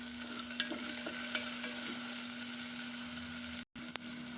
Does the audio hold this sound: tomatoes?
yes